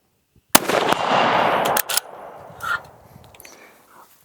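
Shots from a Ruger American rifle in 6.5 Creedmoor in a precision chassis: a loud, sharp report with a long rolling echo, then a second shot and its fading reverberation, all close by.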